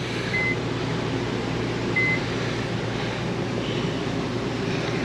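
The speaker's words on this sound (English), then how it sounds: "clear that microwave out so it's not beeping on us" Faint short electronic beeps from a microwave oven inside a 2012 Forest River 2860 DS Class C motorhome, sounding twice at a steady pitch over a constant air-conditioning hum.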